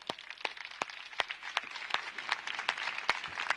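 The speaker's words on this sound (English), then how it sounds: "Please give her an applause." Applause from the audience at a plenary session in Malmö Arena, with distinct individual hand claps ringing out over a steady bed of crowd clapping, moderately loud throughout.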